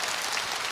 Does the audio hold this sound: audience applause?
yes